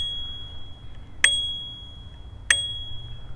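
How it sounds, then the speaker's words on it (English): A new bicycle's bell rings twice, with two bright, sharp dings about a second apart, each leaving a short metallic ring. Both are close and clear over a quiet background hum, with no voices. "this bell is like right out of the future."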